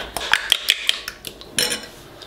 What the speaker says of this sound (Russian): Хорошенько их размешиваю.